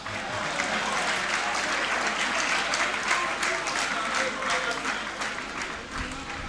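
Sustained applause from an audience at a university graduation congregation, dense overlapping clapping filling the space for several seconds before tapering slightly near the end.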